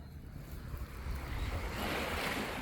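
Sea waves break on a shore after a cyclone, a steady roaring surf that swells slightly louder toward the end, mixed with wind noise.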